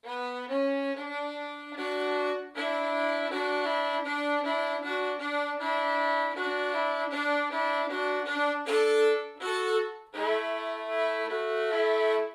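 Spider Shoe melody picked as single notes while a fourth-finger D drone rings underneath, a bowed-sounding string line of steady notes, close and fairly quiet with no speech.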